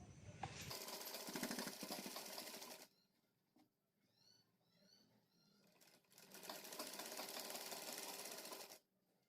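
Sewing machine stitching the neckline of a pathani kurta, two long loud runs of rapid needle clatter separated by a quieter pause with faint handling sounds, no talking.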